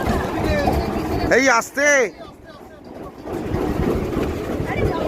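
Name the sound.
boat on the Ichamoti River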